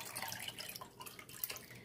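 Faint trickling and dripping as water drains from soaked rice, soft irregular splashes close by.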